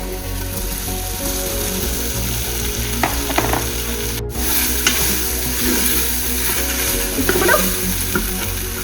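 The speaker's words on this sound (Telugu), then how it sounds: "అల్లం వెల్లుల్లి పేస్ట్ కొంచెం వేగిన తర్వాత మిల్ మేకర్ వేసుకోవాలి" Soya chunks (meal maker) fry with ginger garlic paste in a pan. A steady, close sizzle runs throughout, with light stirring scrapes and small clinks on top.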